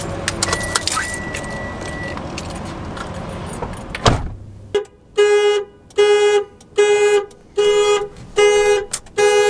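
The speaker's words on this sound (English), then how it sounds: "I set the alarm off" A truck's alarm is set off at a gas stop: after rustling and a door clunk, a loud horn honks in a regular pulsing pattern, six or seven blasts close by.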